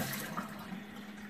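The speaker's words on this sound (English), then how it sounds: "let me rinse these strawberries and get them washed off" Strawberries rinsed under running tap water, a steady close splashing and hissing stream with a faint low hum beneath, continuous and alone.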